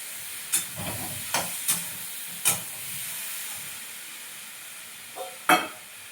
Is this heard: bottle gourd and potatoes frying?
yes